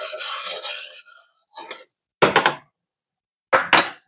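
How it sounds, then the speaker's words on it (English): A utensil clinks and scrapes against a pot while pasta is stirred, in a few short separate bursts with silent gaps between them. "Just feel like I need to stir my pasta in this moment."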